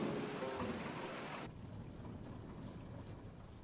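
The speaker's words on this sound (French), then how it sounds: "Ah, il pleut!" Rain falling outdoors as a dense, steady hiss, loud for the first second and a half and then quieter but continuous, with no voices.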